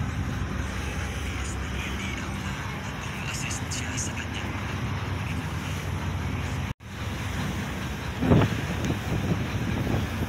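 Steady wind blusters across the microphone outdoors, a constant rushing roar with a brief cutout and a louder gust near the end.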